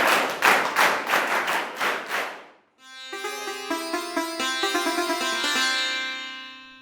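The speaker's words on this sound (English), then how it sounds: "Shall we clap for him?" Classroom applause for a student, a burst of about eight loud rhythmic claps, followed by a sudden shift into bright, tonal musical chimes.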